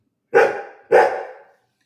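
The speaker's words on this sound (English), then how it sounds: "I can hear it's Noah's bark." Dog barking twice nearby, two loud separate barks about half a second apart in an otherwise quiet indoor space.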